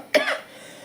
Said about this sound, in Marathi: खोकलाच कमी होईना झालाय